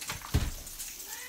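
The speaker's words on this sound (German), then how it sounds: "Meine Katzen sind draußen auf dem Balkon." A cat meows once, short and fairly close, outdoors on a balcony, with faint background ambience and no talking.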